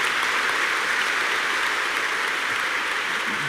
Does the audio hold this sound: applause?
yes